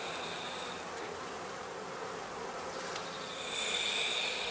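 Honey bees drone steadily around a heather skep, a dense, continuous buzz of many insects that swells slightly louder toward the end.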